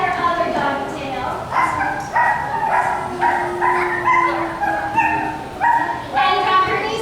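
Young children imitate dogs during a kids' yoga class, a busy run of overlapping playful barks, yips and whimpers repeating in quick bursts, close and loud, with a voice underneath.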